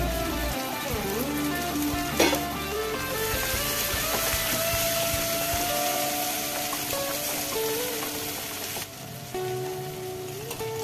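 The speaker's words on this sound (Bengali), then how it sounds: "আমি ভালো করে নেড়ে চেড়ে কিছুক্ষণ ধরে ভেজে নিলাম সবগুলোকেই, পেঁয়াজ, রসুন, টমেটো" Onion, garlic and tomato fry in a pan for mutton curry, a steady crackling sizzle running throughout, with faint scrapes of stirring and a sharp knock near the start.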